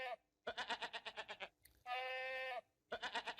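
Goat bleating close by in three separate bursts: two rapid, quavering, pulsing calls and one long steady bleat between them, with short pauses in between and no talk.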